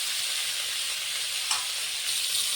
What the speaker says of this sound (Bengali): আমি আজকে একসঙ্গে দিয়ে ভেজে রান্না করবো